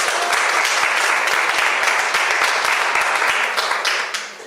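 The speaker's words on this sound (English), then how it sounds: "Give them another round of applause" Audience applause at a market research finalists' awards ceremony, a dense steady wash of many hands clapping that fades out toward the end.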